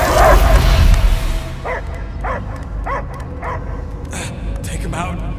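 Several short dog barks and yips ring out in a Guardians of the Galaxy video game scene. They come in a steady series and sit over a loud, dense background of music and effects.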